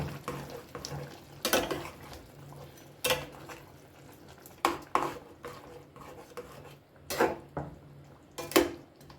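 Chicken jahangiri curry being stirred in a pan, a spoon scraping and clinking against the metal in several separate strokes over a low simmering background, close and moderately loud with pauses between strokes.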